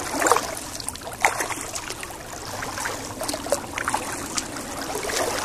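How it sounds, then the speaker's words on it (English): A kayak paddles across a lake, with soft, repeated paddle splashes and trickling water up close over a steady outdoor background. "Okay, paddling across the lake."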